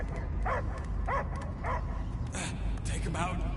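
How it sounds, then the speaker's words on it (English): A dog barking and yipping in short bursts, several clipped woofs followed by higher whimpering yelps, heard close over a low background rumble with other sounds mixed in. "I hear only barking."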